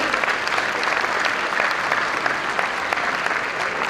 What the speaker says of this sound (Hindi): जोर से करतल ध्वनि कर स्वागत करेंगे।